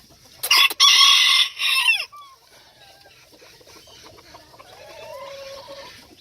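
Old English Game Bantam chickens in a nesting area give loud, close crowing and clucking calls in the first two seconds, followed by softer, scattered clucks and chirps against quiet farmyard background.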